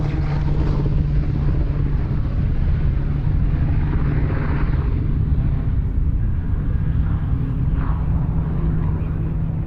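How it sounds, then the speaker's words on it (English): A Pratt & Whitney powered Yak-3 UPW warbird flying at an airshow, a steady loud engine drone with heavy low rumble and wind buffeting that holds constant throughout. "This Pratt & Whitney powered Yak-3 UPW is based on a late war prototype"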